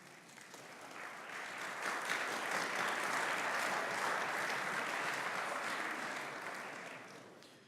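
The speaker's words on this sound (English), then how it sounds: "And you guys deserve some applause," Students in a college chapel break into applause, rising quickly to a steady, fairly quiet wash of clapping that holds for several seconds and tapers off at the end.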